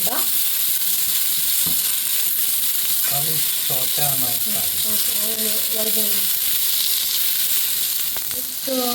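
Onions frying in hot oil for hakka noodles, with a steady broadband sizzle running throughout and occasional soft stirring scrapes over it, close and fairly loud, with no talking.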